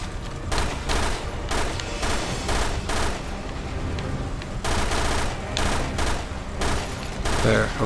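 Rapid bursts of gunfire from the Resident Evil Revelations 2 video game, loud and close, coming in repeated volleys of about a second each with short gaps between them and no talk over them.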